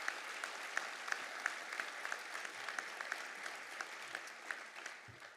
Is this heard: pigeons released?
no